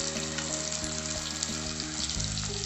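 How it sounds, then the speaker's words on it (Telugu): Pomfret fish pan frying in a shallow layer of oil gives a steady, close, dense sizzle with crackling throughout and no talk. "నూనెలో నేను చేప పెట్టుకున్నాను,"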